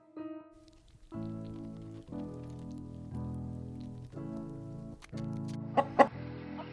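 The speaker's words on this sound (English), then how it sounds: "This is a rooster. Roosters crow in the morning to wake us up." A rooster crows loudly and near in a series of repeated, drawn-out calls of about a second each, with a few sharp pattering knocks at the end.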